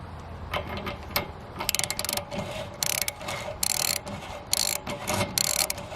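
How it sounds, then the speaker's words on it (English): Hand ratchet clicks in short bursts while turning a 3/4 inch National Pipe Thread tap into the anode port of an RV water heater, uneven rhythmic ratcheting strokes up close with brief pauses between. "And it took a ratchet."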